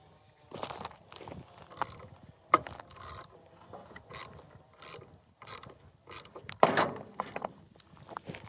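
A ratchet wrench with a 14 socket clicks in repeated short bursts while cranking a Generac 22kW generator engine, each crank a quick run of sharp metallic ticks, close up with pauses between strokes.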